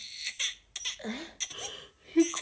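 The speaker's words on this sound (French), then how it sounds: "Pourquoi j'entends des cris de bébé?" A baby cries out in short, high-pitched bursts, close and fairly loud, with wavering squeals and brief gaps between outbursts that almost sound like giggling.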